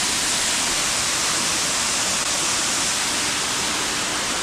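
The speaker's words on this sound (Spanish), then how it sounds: "Y que nos cae agua." A waterfall roars with dense, constant hissing spray at close range, a loud unbroken wash of falling water showering down on visitors.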